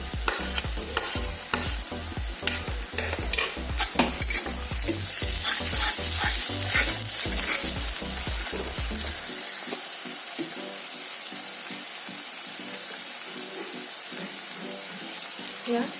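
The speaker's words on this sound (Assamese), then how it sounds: "পিঁয়াজ ভাজা হৈ গৈছে। সেই বটি থোৱা আদা নহৰুখিনি দি দিছোঁ।" Ginger-garlic paste sizzles with fried onions in a hot pan, a steady bright frying hiss with stirring clatter that calms to a softer sizzle partway through, heard close with no talk.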